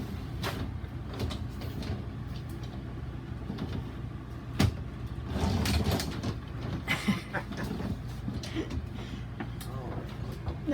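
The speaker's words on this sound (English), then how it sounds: "The shower door." A sliding shower door in a 2021 Jayco Melbourne 24L caravan rolls and knocks along its track with a few clacks and rattles, heard close over continuous background noise.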